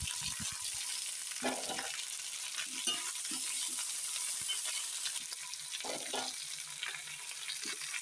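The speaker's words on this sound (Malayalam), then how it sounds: "നമുക്ക് അരിഞ്ഞ് വെച്ചിരിക്കുന്ന ഇഞ്ചിയും വെളുത്തുള്ളിയും ഇട്ട് കൊടുക്കാം" Potato, ginger and garlic fry in a pan with a steady broadband sizzle, broken by a few soft stirring scrapes and clatters; no talking.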